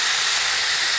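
Oil sizzles loudly in a pan for a Samoan-style lamb stir-fry, a steady close hiss with no pauses and no talk.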